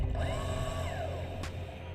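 An underwater diver scooter with something stuck in it whines with a steady motor hum and wavering pitched tones, plus a short hiss midway.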